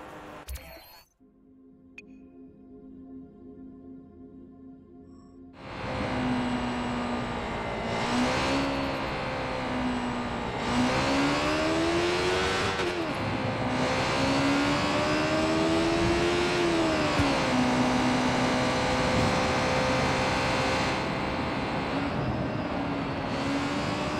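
A car in the video game Watch Dogs 2 drives and accelerates with a loud, steady engine drone that rises and falls in pitch with gear changes, following a quieter opening. A voice talks over the engine.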